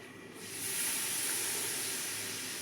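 Stock poured into a hot flour-and-oil roux in a soup pot for Zuppa Toscana: a steady hissing sizzle surges up after a brief quiet moment and holds loud and continuous.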